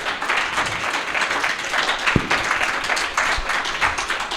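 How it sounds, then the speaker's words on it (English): An audience at a convention ladies panel gives moderate applause for the panelists, a steady patter of clapping with a couple of sharp near claps standing out. "So we please give them a round of applause because they're amazing."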